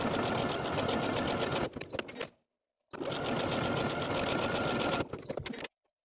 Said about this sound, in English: Now I'll take it to my sewing machine and sew those tiny buttonholes at the markings.